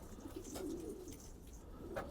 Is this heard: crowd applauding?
no